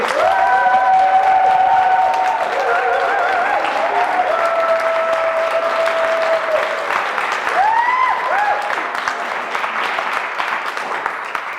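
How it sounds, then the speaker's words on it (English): Loud, sustained applause and cheering from an audience welcoming speaker James C Laird, with whistles and shouts over the clapping throughout. "give me the biggest applause that you've ever done in your entire life for James C Laird, everybody!"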